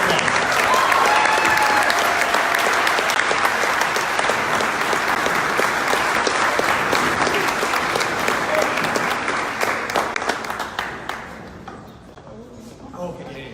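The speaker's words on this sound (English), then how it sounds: "give another round of applause" Sustained, loud audience applause rings through an awards ceremony celebrating justice, dense clapping holding steady for several seconds before fading away toward the end, with some voices mixed in.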